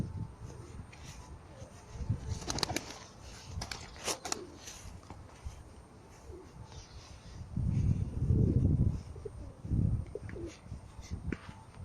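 Pigeons in a loft coo low and close, and there are a few sharp rustles and bursts that sound like wings flapping or handling. Steady background noise runs underneath throughout.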